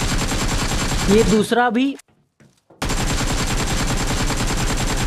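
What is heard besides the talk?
AKM gunfire in video game BGMI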